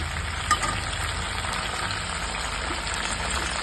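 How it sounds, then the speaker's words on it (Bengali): Flat beans (shim) frying in hot oil, a close, constant sizzle with an even hiss and one brief pop near the start, and no talking. "শিমটা আমি এবার ছেড়ে দেবো আস্তে আস্তে ভাজা হওয়ার জন্য"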